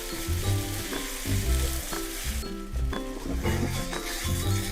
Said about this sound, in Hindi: तेज आंच पर इसको 3 से 4 मिनट हम भूनेंगे।